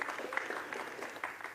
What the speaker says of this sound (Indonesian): Boleh tepuk tangan buat teman-teman sekalian